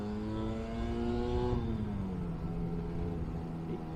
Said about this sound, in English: let me just go down in second gear, hear this thing rev out.